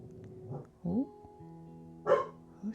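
A few sharp dog barks spaced out over a steady low hum, fairly close and moderately loud.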